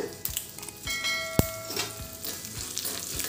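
Chana dal, mustard seeds, asafoetida and dried chillies fry in hot oil for a bottle gourd chutney, crackling and popping steadily close by. A single sharp metallic clink rings out partway through, and no one speaks.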